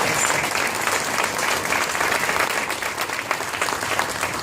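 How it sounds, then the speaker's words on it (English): Steady, dense applause from an audience honouring the speaker's sisters, sustained and fairly loud throughout with no break. "give my sisters a round of applause"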